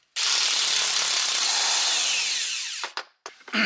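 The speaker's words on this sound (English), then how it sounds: "So I've got that bolt loosened up" Power tool running on a bolt at a Chevy Colorado rear shock mount: one continuous loud whirring burst of about three seconds, then a couple of short stuttering bursts, with no talking.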